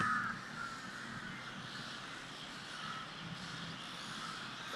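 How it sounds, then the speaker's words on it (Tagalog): Crows caw from nearby trees in a steady, harsh chorus, with one clear call standing out at the start over a constant background hiss of outdoor ambience. "Nakatakot ang uwak."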